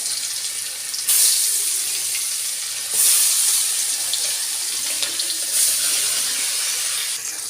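Fish coated with turmeric and chili drops into hot oil in a karai and sputters loudly, with bright hissing bursts recurring every couple of seconds over a constant sizzle.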